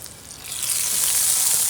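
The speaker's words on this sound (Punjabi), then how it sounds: "ਤੇ ਉੱਪਰ ਪਾ ਦਈਏ ਤੜਕਾ" A hot tadka is poured over Punjabi dhaba-style kadhi pakora, giving a bright sizzling hiss that swells and holds loudly for a moment close by.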